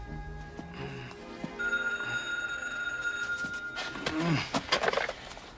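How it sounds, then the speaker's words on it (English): A telephone rings in a drama film: a bright, sustained electronic bell tone with steady ringing, then a brief lower swooping sound near the end, with no speech over it. "And then the telephone rang."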